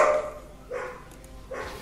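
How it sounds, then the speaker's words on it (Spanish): Dogs bark outside in a few separate bursts, sounding muffled and somewhat distant against a quiet indoor background. "Los perros están ladrando afuera"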